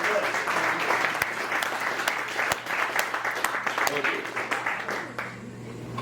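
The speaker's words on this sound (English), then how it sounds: "Let's hear a round of applause for that" Audience at a comedy night applauds steadily after a card trick, a dense wash of clapping with some louder individual claps, tapering off near the end while voices murmur underneath.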